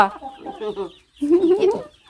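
Chickens clucking up close in two bursts, with throaty squawking calls separated by a short pause.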